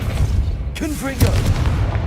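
Confringo fire spell explosion in Hogwarts Legacy, a single moderate boom with a brief whooshing burst near the middle, over steady game background sound and faint talk.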